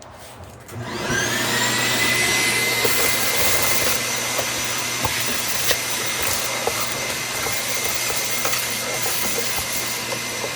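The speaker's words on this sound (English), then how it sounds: "Vacuum time." A vacuum cleaner runs steadily and loudly after starting up while cleaning a Sega Astron Belt arcade cockpit, its motor whine holding a constant drone throughout.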